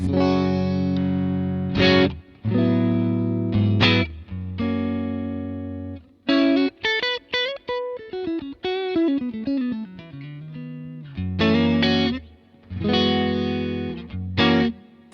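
An electric guitar plays with a clean tone through a Helix amp modeler: sustained chords alternate with a quick run of picked single notes descending in pitch, with light reverb.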